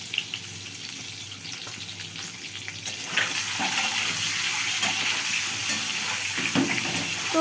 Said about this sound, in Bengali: এই যে খুন্তিগুলো বারবার আমি ডিমের মধ্যে টাচ করছি খুন্তির একটা সাইড দিয়ে